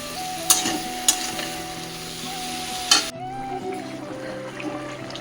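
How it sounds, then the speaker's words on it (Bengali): Vegetables with turmeric sautéing in a pan, a steady sizzle with a few sharp stirring clatters near the start, the frying noise easing off near the end, with music playing underneath. "আমার হলুদ দিলাম দিয়ে এটাকে আমি কষাবো"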